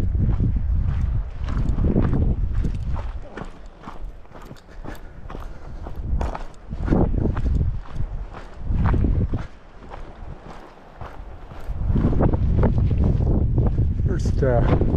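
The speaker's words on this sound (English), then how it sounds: "the wind has come up, so it's reasonably comfortable right out there now." Gusty wind on Fraser Mountain in northern British Columbia buffets the microphone in heavy, uneven low rumbles and bursts, with brief lulls between gusts, close and loud throughout.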